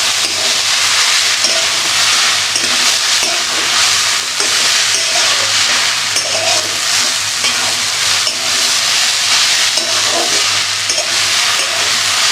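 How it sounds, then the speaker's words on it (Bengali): A vegetarian vegetable fry sizzles steadily in a pan while being stirred, a dense continuous hiss with occasional scraping of the spatula, close and loud throughout with no talking. "ভাজাটা আগেও আমি নেড়ে দিয়েছি,"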